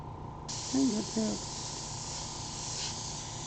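An airbrush fed by a compressor lets out a steady, close hiss that begins abruptly and runs on evenly, with a brief voice speaking over it early on.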